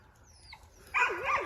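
A young dog gives a short high yip and whimper, close and fairly clear, against a quiet background.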